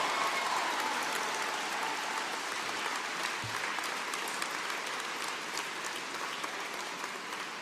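A room of people at a Liberal caucus holiday gathering applauds steadily, a dense, even patter of clapping heard from some distance and continuing without a break.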